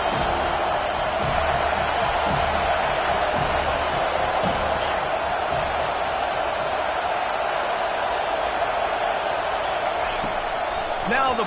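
A packed football stadium crowd at a college game keeps up a loud, continuous roar of cheering throughout, with play-by-play commentary running over the top.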